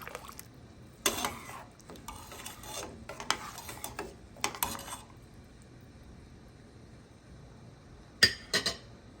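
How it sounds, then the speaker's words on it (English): A spoon scraping and clinking against a pot of coconut rice with corn in several short bursts, with a couple of sharper metallic taps near the end. No one speaks. "give it a little stir, just to make sure everything is together"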